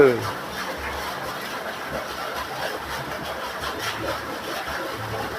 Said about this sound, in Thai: อ้าวเป็นมอเตอร์ไซค์